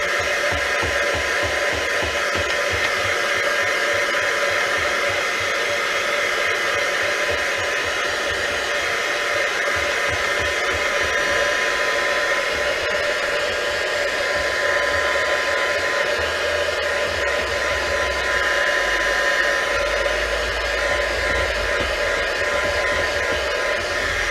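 A hair dryer blows steadily on a gesso-coated card, a loud continuous close-up whir with a slight low flutter, running alone without any talk.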